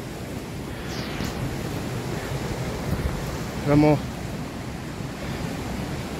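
Water of the Dudhe river rushes in a steady, broad wash mixed with wind noise over a riverbed, continuing unbroken with a brief voice heard partway through.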